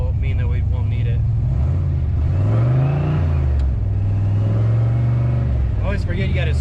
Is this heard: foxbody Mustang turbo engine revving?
yes